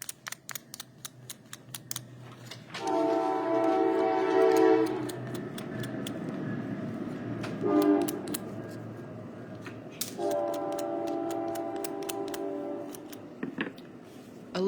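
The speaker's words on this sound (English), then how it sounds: "here comes another train" A train sound effect marks a winner at a live online class event, with horn-like tones sounding in three bursts between sharp clicking and tapping noises.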